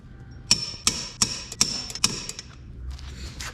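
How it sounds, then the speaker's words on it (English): Sharp metallic clicks ring out at a steady pace as a torque wrench tightens 14 mm lug bolts on a Volkswagen MK3 wheel, about six crisp clicks up close and fairly quiet, then a short softer clatter. "don't forget to torque your wheels"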